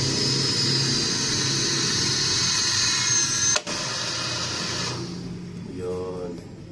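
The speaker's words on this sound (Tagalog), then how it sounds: "Ayun, gumana na naman yung motor." A small motor in a home solar setup with a DEYE 16 kW hybrid inverter and a Menred 280 Ah LiFePO4 battery hums steadily, with a sharp click midway and a brief warbling tone near the end.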